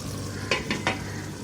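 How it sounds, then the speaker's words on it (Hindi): Chicken khara masala frying with green chillies in a pan, a steady low sizzle under three brief stirring scrapes, close by, with no voices. "हरी मिर्चें डाल के भूनेंगे थोड़ा सा इसको।"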